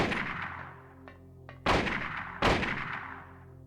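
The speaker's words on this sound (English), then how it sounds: "Right now we're just, you know, firing our guns" Gunfire during a Silent Hill boss fight against Sybil, two sharp loud shots about a second apart after fainter clanks and a lingering rumbling tail, no voices.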